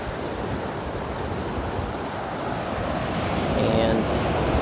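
Ocean waves and surf below the cliffs of a Portuguese coast: a continuous broad roar of breaking water mixed with wind buffeting the microphone, steady and slightly swelling toward the end.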